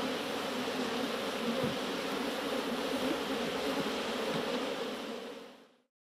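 A dense swarm of bees buzzes continuously at close range in a natural setting in China, a steady droning hum that fades out at the end.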